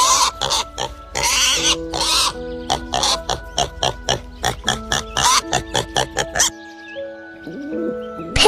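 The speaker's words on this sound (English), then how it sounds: "Pig and family." A pig and her piglets grunt and oink in a rapid, irregular run of short close bursts, with squeals and snorts mixed in, before trailing off into quieter grunts.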